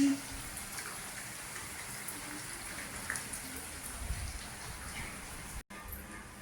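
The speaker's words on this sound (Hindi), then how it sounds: "बहुत तेज बारिश हो रही है" Heavy rain pours steadily outside a home in the early morning, a dense continuous hiss of falling water with scattered drips, heard alone at moderate level.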